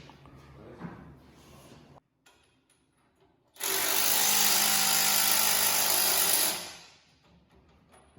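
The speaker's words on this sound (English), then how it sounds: "Now, get these holes drilled." A power drill bores holes into a truck in a workshop, starting with quiet handling noises before a loud, steady high-pitched whine runs for about three seconds, then winds down.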